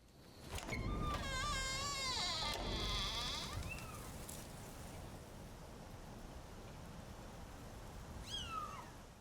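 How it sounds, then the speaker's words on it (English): A cat meows in a series of drawn-out, wavering cries over a steady hiss, with a short higher-pitched mew near the end. "Sounds like a dog whimpering."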